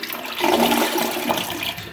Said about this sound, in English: let's give her a flush.